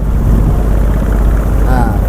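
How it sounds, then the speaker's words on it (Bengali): A river trawler racing alongside a launch, its engine a low throbbing drone under heavy wind rush buffeting the microphone, steady and loud throughout. "এটা বরিশুলের ট্রলার"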